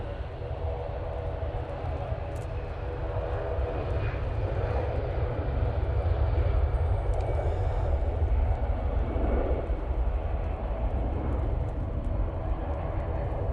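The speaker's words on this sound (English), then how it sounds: "let's jump onto this Easyjet now departing" An Easyjet airliner departing Manchester Airport gives a broad, steady roar of jet engines that swells gradually through the middle, heard from a distance outdoors with no talk over it.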